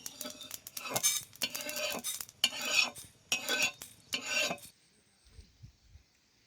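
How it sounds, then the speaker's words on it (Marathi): Sesame seeds roasting in a dry pan are stirred with a spatula, making close, rhythmic scraping and rasping strokes in about five bursts before falling quiet, with no talking. "तीळ काय होते लगेच भाजते, म्हणून सगळं भाजून घ्यायचं आणि मग तीळ भाजायचं."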